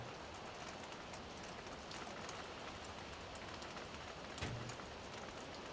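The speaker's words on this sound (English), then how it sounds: "Should not be raining in here" Steady rain in the video game Farming Simulator 17, a dense even hiss of falling drops that stays constant and fairly quiet throughout, with one brief low thump near the end.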